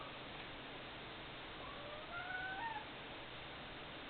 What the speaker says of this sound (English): Oh, that's Shadow, my mom's cat, that you just heard.